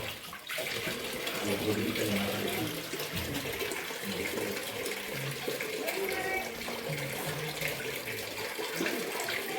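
Water gushes and splashes continuously from a stone cow-mouth spout at the source of the Godavari on Brahmagiri hill, Nashik, a steady rushing flow with faint voices mixed in.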